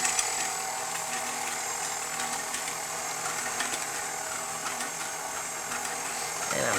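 A whisk churns wet vegan zucchini bread ingredients with a steady mechanical whirring and rattle, holding an even pace throughout, with no speech.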